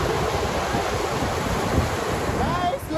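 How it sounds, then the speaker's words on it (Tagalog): Loud, constant roar of large waves breaking nearby, with heavy wind buffeting the microphone throughout. "Ayan oh guys, ang lakas ng alon."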